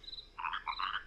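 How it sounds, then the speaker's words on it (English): A frog named Frida in Chibi-Robo gives a short run of quick, bright croaks, three or four close chirping bursts in succession, with no talk. "The frog's getting greener and bigger every time we spray it."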